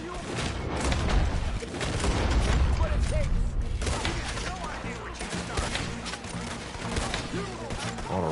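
Steady gunfire in Red Dead Redemption 2: dense, overlapping shots and booms that carry on loudly the whole time with hardly a pause.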